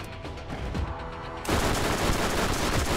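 A rapid-fire gun in Borderlands, a dense stream of fast shots that suddenly jumps to a much louder, harsher barrage halfway through, close and continuous.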